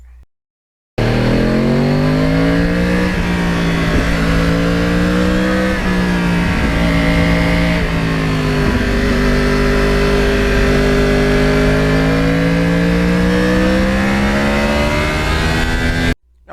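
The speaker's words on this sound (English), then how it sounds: "the exhaust note on the R1 always sounds like it's just loafing along, just idling along, and then you whack it" A 2009 Yamaha R1 crossplane sport motorcycle engine revs hard and holds a loud, steady roar, its pitch climbing and dipping as the throttle opens, with no voices.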